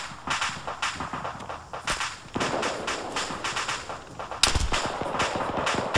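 Video-game gunfire during a military operation: rapid bursts and single shots crack close and loud throughout, with a sharp louder blast near the end.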